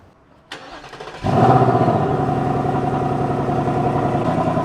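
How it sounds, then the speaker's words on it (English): Modified car engine on a cold start: a starter click and brief cranking, then the engine catches with a loud roar and settles into a steady, rumbling idle close by. "Let's see how it sounds on a cold start."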